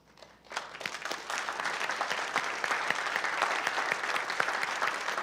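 A church congregation breaks into sustained applause of welcome during a service, starting quietly and swelling into dense, steady clapping from many hands.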